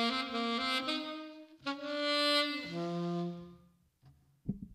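Solo saxophone plays a slow melody, a few sustained notes sliding between pitches, close and clear with no talking, ending in a soft clunk.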